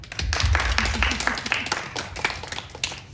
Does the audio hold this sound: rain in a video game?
no